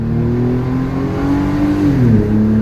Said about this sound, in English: we're gonna take off from a dead stop here, and we're just gonna cruise up through the gears in this low mode